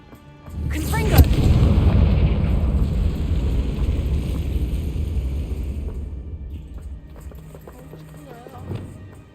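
The Confringo fire spell in the Hogwarts Legacy video game goes off as a loud, deep explosive boom. A long rumbling roar follows and slowly fades over several seconds.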